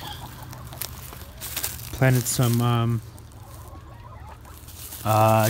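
Backyard chickens around a spring greenhouse cluck in a few loud, close bursts, with low murmuring fowl sounds between them and a person speaking briefly.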